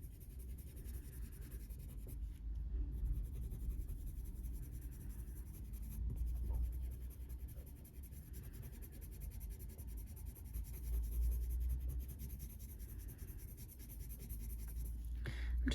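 A colored pencil scratches and strokes across blue toned paper, a soft, close, continuous scratching with slight rises and falls in pace.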